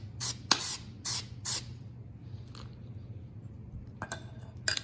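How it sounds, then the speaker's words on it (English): Lubricant sprayed inside an AR-15 upper receiver: four short sharp aerosol bursts in quick succession, a fainter puff, then a final longer spray close up, with light metallic handling between. "Just spray the inside of it or lube the inside of it."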